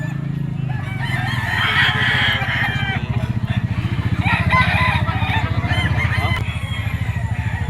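Roosters and other fowl crow and cluck loudly and close at a crowded poultry market in Bocaue, Philippines, several birds overlapping in a continuous noisy chorus.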